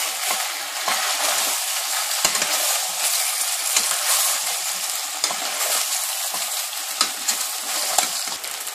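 Paprika is stirred into a sizzling rib stew, a bright continuous hiss of frying with small spoon clicks and scrapes, close and steady, no talking.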